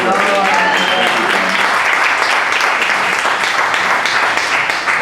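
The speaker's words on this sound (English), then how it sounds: "let's give Don a nice round of" Audience at a real estate association market address breaking into a loud, dense round of applause, continuous and sustained throughout.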